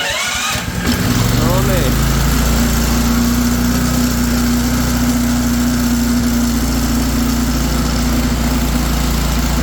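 A Honda-type 5.5-6.5hp snowblower engine catches after a brief start attempt and settles into a loud, steady close-range idle, with a voice speaking briefly near the start.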